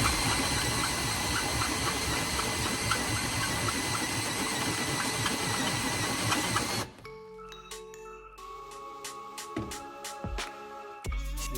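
A drill grinds steadily and loudly through thick steel exhaust pipe for several seconds, then cuts off, leaving quieter scraping and clattering noises.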